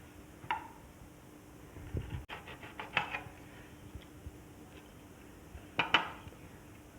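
Guavas being cut with a knife, sparse clicks and clinks of the blade meeting a plate or board, a few sharper taps spaced seconds apart in an otherwise quiet room.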